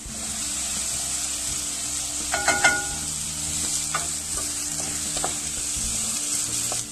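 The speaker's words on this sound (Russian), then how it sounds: "Постоянно все помешиваем, и перчик, и баклажаны, чтобы у нас ничего не подгорало" Onion and carrot stir-frying in vegetable oil, a steady close sizzle with scattered clinks and scrapes of stirring, a busier patch of clatter near the middle, no voices.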